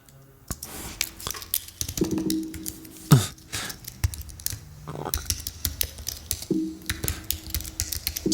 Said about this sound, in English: I have a bunch of keyboard typing and mouse clicking movement sound effects